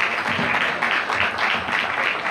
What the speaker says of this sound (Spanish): Fuerte aplauso para Martín Yarzábal.